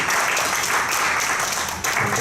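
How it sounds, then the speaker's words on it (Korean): A youth worship congregation gives thankful applause at a Sunday service, dense steady clapping filling the room, loud and close for a couple of seconds. "감사해 주님께 감사의 박수 드리겠습니다."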